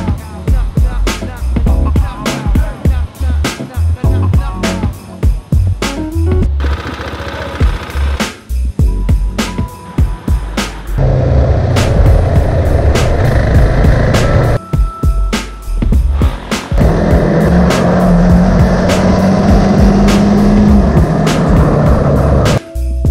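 A KTM motorcycle being ridden as a freestyle bike gives a loud, close engine roar that rises and falls with throttle, with choppy wind buffeting and bumps; a voice speaks briefly.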